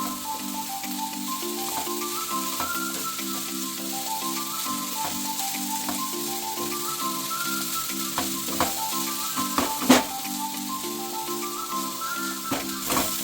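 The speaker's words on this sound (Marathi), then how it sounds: "हे बघा आपलं चांगलं परतून झालंय." Strips of onion, long-cut carrot, capsicum and cabbage stir-fry in a pan with a steady, dense sizzle throughout, a few sharper clinks and scrapes of stirring near the middle, and tonal background music running underneath.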